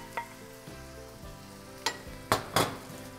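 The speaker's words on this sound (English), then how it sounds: "we're going to saute up some onions, celery, and garlic" Finely chopped onions sauté in a pan for Croatian sarma, a quiet steady sizzle over a low hum, broken by a few sharp scraping stirs near the end.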